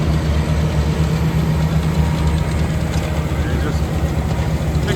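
A hay fluffer with spinning tines runs behind a tractor during wheat harvest, giving a steady, loud, low mechanical drone with no breaks.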